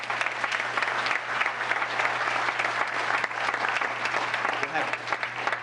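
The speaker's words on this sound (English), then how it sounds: "Let's give them a round of applause." Audience applause at a town council meeting, a steady wash of clapping from a roomful of people lasting several seconds without letup.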